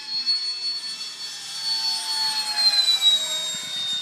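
Parkzone Habu 2 RC jet's electric ducted-fan motor running at full throttle on a 5S pack with a 110A ESC, a steady high-pitched whine and rush that holds loud and close throughout with no talking.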